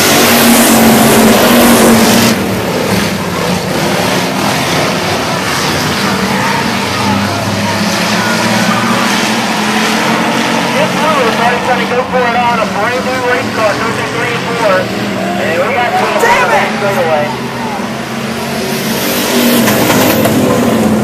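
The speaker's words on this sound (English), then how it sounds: "8 cars going 8 laps" Eight race cars roar around the track at Arklatex Speedway, engines loud and continuous with rising and falling revs as the pack passes, while an announcer talks over the racing throughout.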